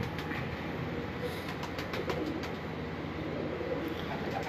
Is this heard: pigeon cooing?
yes